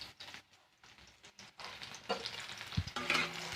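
Onions with panch phoron and green chillies frying in a pan, quiet scattered crackles at first, then a louder, denser sizzle as the mixture is stirred, with a few spoon scrapes near the end.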